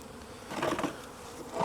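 Honey bees buzz at an open hive during requeening, a dense, close swarm drone that swells briefly and holds steady with no voices.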